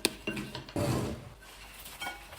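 A spoon clinks and scrapes in a bowl while mixing a beet salad with walnuts and agave syrup, giving several sharp knocks followed by softer rhythmic stirring, close and quiet.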